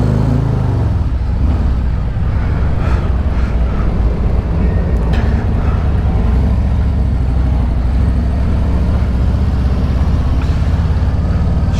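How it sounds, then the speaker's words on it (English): A motor vehicle rolls off a ferry with a heavy, steady low engine rumble that stays loud and continuous throughout, close up and without pauses. "we are getting ready to roll off the ferry"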